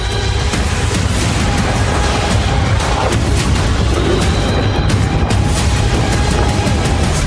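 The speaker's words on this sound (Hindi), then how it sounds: "अमेरिका इजराइल की एयर स्ट्राइक, रिहायशी इलाकों पर क्लस्टर बम" Missile attack and air strike explosions over a war zone, a dense, loud continuous rumble of booms and blasts with no clear gaps between them.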